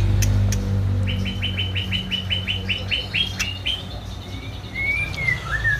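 A white-rumped shama sings a rapid series of clear, repeated whistled notes, followed by a few sliding whistles, over a low steady background hum.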